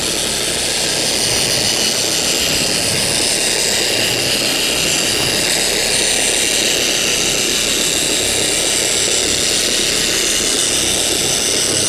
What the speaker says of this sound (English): as this is doing on this badly oxidized hood